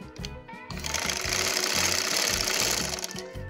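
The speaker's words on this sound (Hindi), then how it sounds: "आइए स्टिचिंग, अब इसकी सिलाई हम शुरू करते हैं।" A sewing machine stitches a baby girl's dhoti salwar in a steady, continuous run with a busy rhythmic needle chatter throughout, close and fairly loud, with no talking.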